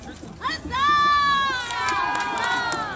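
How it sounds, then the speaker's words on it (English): A crowd at a knights' jousting competition cheers and shouts loudly, a sustained roar of many voices with a bright rising whoop over it. "cheer your champions on"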